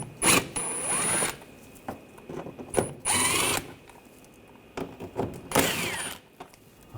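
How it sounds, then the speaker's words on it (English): A hand ratchet with a T20 socket removes screws from the front inner fender liner of a 2014-2020 Nissan Rogue, heard as several separate bursts of quick, close clicking with quiet pauses between them. "I'm going to take these screws out, use a T20 socket."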